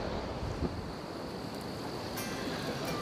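Cold wind blows steadily outdoors, a dense broadband rush buffeting the microphone with no break across the short span.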